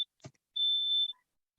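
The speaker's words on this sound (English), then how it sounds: "the smoke alarm is going off" A household smoke alarm gives a single piercing high-pitched beep about half a second long, then cuts off, with the start of a second beep at the very end and near silence between.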